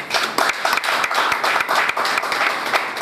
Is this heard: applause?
yes